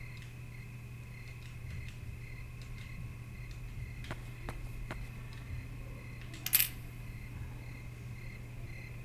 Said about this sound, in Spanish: Le ofrecí una moneda.